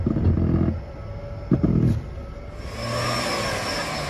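A four-wheel-drive vehicle's engine revs under the gas pedal while its front wheel barely spins during ABS brake bleeding: two short low roars, then a steadier, louder rising rev near the end.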